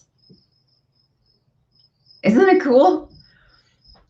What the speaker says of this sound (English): can you hear the crickets?